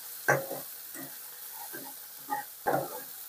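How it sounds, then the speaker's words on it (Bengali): Spice paste is stir-fried in oil for a yogurt chicken curry, with a soft sizzle under intermittent scraping stirs of a spoon against the pan, several strokes spread across the stretch. "এটাকে সুন্দর করে কষিয়ে নেব যতক্ষণ না মশলা থেকে তেল না ছেড়ে যায়"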